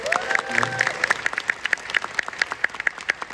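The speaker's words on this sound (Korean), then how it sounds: "저를 위해서도 박수 한번 주세요" Applause at a conference lecture, thin and sparse, with a few distinct claps falling in a fairly regular rhythm rather than a dense crowd roar.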